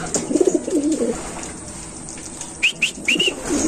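Pigeons coo in low, throaty bursts at close range, with a few brief higher chirps and wing rustles toward the end.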